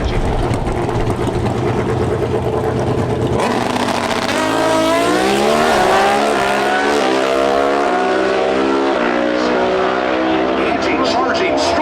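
Pro Stock drag racing motorcycles in a final round at the NHRA Route 66 Nationals in Chicago thunder loudly, their engine note climbing sharply in pitch as they launch and accelerate down the strip, with an announcer talking over the roar.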